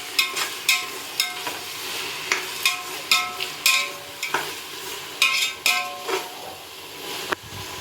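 Onion, tomato, green chili, mint and coriander sautéing for prawn biryani, with a steady pan sizzle broken by repeated sharp scrapes and clacks of a spatula stirring at a brisk, uneven rhythm, close and fairly loud.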